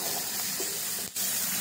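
Dried red chillies sizzle in hot oil, a steady close hiss of frying that holds for the whole short stretch, with a brief dip near the end.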